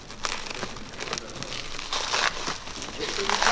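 Plastic parcel wrapping crinkling and tearing in bursts as it is unwrapped and cut away, close and moderately loud, with people talking over it.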